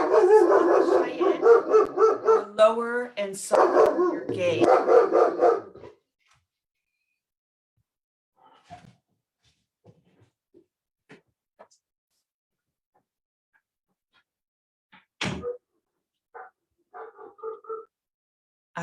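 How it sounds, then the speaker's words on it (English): A dog barks and yips in a rapid, loud burst of several seconds near the start of a guided meditation, then calm speech follows with long quiet gaps, and a few more faint yips and whimpers come near the end. "I apologize for my dog"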